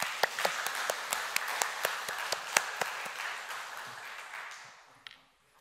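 A church congregation claps for two church choirs during a Sunday afternoon service; the claps come in a sparse, fairly even series of distinct hand claps that thin out and fade toward the end, fairly quiet in a reverberant hall.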